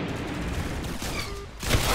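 Rapid gunfire from the Roblox-style shooter game Arsenal rattles in a dense burst, loud and continuous, with a sharp crack near the end.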